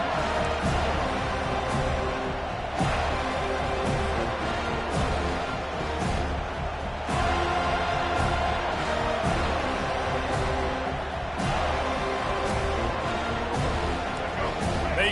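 A roaring stadium crowd in an NCAA college football video game cheers steadily and loudly throughout, a dense continuous wall of noise with occasional sharper bursts, while a commentator talks over it.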